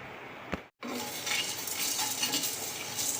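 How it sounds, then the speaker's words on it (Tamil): Pepper, cumin and fennel roast in a pan with a continuous dry sizzle and occasional scraping stirs, close and steady after a brief pause near the start, with no talking. "இதில் மிளகு சீரகம் சோம்பு போட்டு கொஞ்சம் பொன்னிறமாக வரைக்கும் வறுத்துக்கலாம்"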